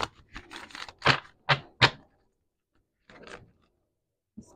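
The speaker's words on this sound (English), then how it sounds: "Let me shuffle this on camera for you guys as well." A deck of tarot cards is shuffled by hand, several rapid riffling bursts close to the microphone followed by a pause, then a softer shuffle and a final brief tap.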